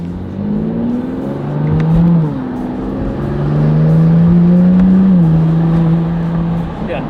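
A BMW M2 G87 fitted with front mount intakes revs under load, its exhaust droning in a steady rising and falling note with an audible valve opening, loud and close, with no talk over it.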